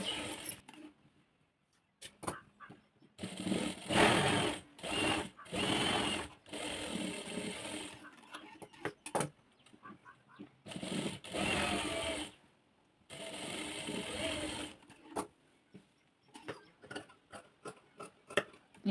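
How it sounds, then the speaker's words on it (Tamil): A sewing machine stitches a blouse in repeated bursts of fast mechanical clatter, starting and stopping with short pauses between runs and brief handling clicks near the end. "இப்போ வந்து எக்ஸ்ட்ராவாக 2 தையல் போட்டுக்கலாம்."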